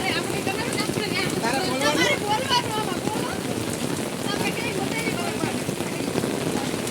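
Heavy rain pours down steadily in a dense, constant hiss in Junagadh, with faint voices now and then beneath the downpour.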